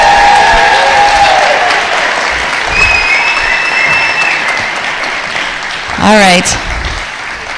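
A church crowd gives loud, sustained applause for the youth and kids, with dense clapping filling the room and a few whoops rising above it. A voice briefly cuts in near the end.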